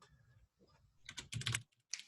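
Fingers tap at a computer keyboard in quick, uneven bursts of clicks, close and fairly quiet, with short pauses between flurries and no one talking.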